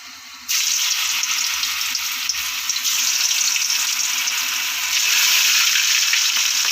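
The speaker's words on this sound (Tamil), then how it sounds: "கொஞ்சம் கொஞ்சமாக போட்டு பொறிச்சு எடுத்துடலாம்" Steady, loud sizzling of chilli chicken pieces deep-frying in hot oil, a continuous bubbling hiss that swells slightly partway through, with no voices.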